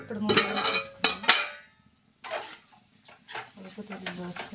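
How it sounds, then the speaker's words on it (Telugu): A lid goes onto a cooking pot of cucumber curry with a few sharp metallic clanks, followed by lighter rattles and scrapes. A voice speaks in between the kitchen sounds. "ఇప్పుడు మూత వేసుకున్నాము."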